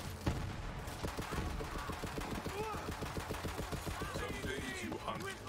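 Rapid shotgun gunfire from the video game Borderlands, dozens of sharp evenly spaced blasts in a fast steady rhythm, loud and close, with faint game sound effects layered underneath.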